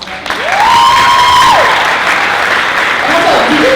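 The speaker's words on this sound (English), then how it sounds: "let's just give a really quick round of applause for their companions" Audience applause and light cheering at the Ms. Wheelchair America 2019 speech night, a loud, sustained wash of clapping from a crowd, with a whistle-like tone rising over it early on and cheering voices mixed in.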